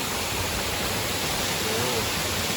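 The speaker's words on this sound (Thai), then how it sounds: "ก็น้ำตกไหลลงไปข้างล่างครับ" A waterfall at Phu Kradueng pours down a cliff, giving a steady, broad rushing roar that stays constant and fairly loud throughout, with no voices over it.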